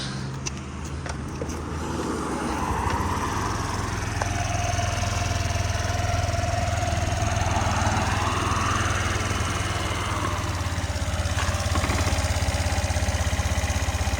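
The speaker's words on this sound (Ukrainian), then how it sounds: "давайте я з цієї заведу з кікстартера" A Suzuki Address V125 scooter engine catches after a kickstart and settles into a steady, bassy idle, close and continuous with a low drone throughout.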